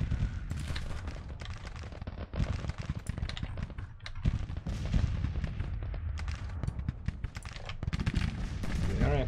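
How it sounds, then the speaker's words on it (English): Cannon fire in the video game Grand Tactician: The Civil War, a dense, continuous barrage of booming shots and crackling gunfire layered together at steady loudness, with no talking. "Okay, our cannons firing."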